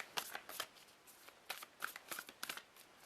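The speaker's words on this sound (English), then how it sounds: "I'm going to shuffle the other way because it's just not working." Tarot cards are shuffled by hand up close, a series of quick crisp riffling bursts with short gaps between them, fairly quiet and with no voice over them.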